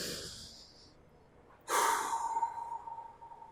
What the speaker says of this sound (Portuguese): Chefinho mandou fazer uma respiração bem profunda.